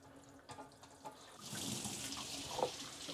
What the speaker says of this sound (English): I'm just adding some additional water.